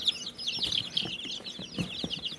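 Cochin bantam chickens, including millefleur or calico birds, cluck and chirp in a quiet aviary pen, with soft, scattered calls and brief higher peeps throughout, close by and moderately faint.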